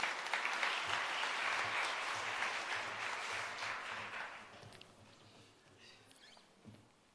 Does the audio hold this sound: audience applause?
yes